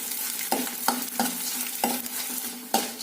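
Edible gum (gond) roasting and being stirred in a pan: steady sizzle with a regular series of scraping stirs about every third of a second, close and fairly loud, no voices.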